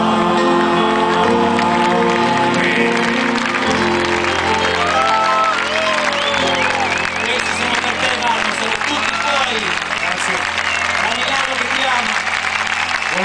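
An audience applauds and cheers at an evening show with a comedian and a musician, with continuous clapping and whoops over music and voices for about thirteen seconds.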